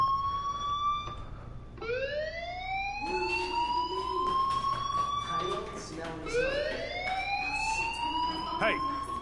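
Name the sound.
school fire alarm, video game Life is Strange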